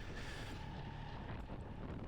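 Steady wind buffeting on a BMW 1300 GSA motorcycle riding through cold, foggy, slippery conditions, a continuous broadband rush with a faint tonal whine, loud and unbroken throughout.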